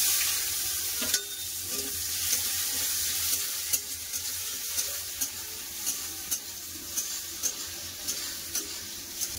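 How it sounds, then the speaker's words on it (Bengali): Onions frying in oil in a kadai with five-spice tempering and a bay leaf, a steady close sizzle punctuated by regular sharp pops and crackles, no voices. "পেঁয়াজটা ভেজে নিয়েছি হাফ করে"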